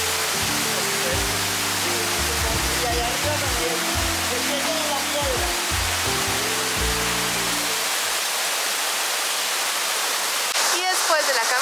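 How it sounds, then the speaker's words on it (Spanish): Icy water from the Sierra Nevada rushes steadily through tropical rainforest near Santa Marta, a constant broad hiss like a cascade, with low rumbling tones underneath for the first several seconds. "agua helada que baja directamente de la Sierra Nevada"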